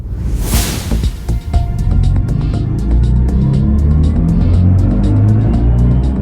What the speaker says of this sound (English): It's the sound of an electric car coming to life.